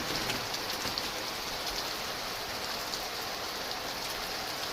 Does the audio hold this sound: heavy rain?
yes